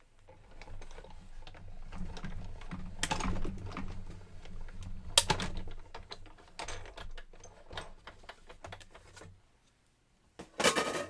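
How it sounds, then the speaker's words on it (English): Paper and a die between cutting pads are cranked through a Big Shot die-cutting machine, giving a steady grinding, clicking roll for about ten seconds with brief louder clunks, then a final burst of mechanical rattle. "And one cutting pad on top, and we're going to crank that through the Big Shot."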